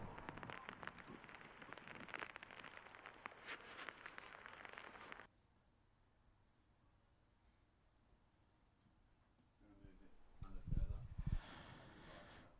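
Steady hiss of rain falls over a suburban Australian rules football ground during a Nelson Bay versus Cardiff match, heard for several seconds before dropping away, then a few faint thumps and movements as a crowd murmurs.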